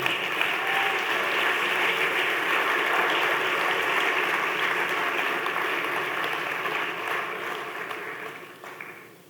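A church congregation applauds during a sermon with a sustained wash of clapping that holds steady, then thins and fades away toward the end.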